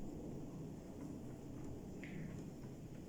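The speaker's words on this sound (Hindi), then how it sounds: "बादल गरज रहे हैं" Heard from indoors during a rainy day, a low, faint thunder rumble rolls continuously beneath a soft hiss of steady rain, with no talking.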